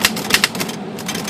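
Keys clack on a restored Royal 10 vintage antique typewriter, a rapid uneven run of sharp close strikes with a brief pause partway through, heard alone without talk.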